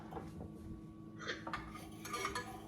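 A spoon stirs a small batch of homemade lip balm mixture with citrus oil in a container, giving soft scraping and a few light clinks against the side, faint and close with no talking.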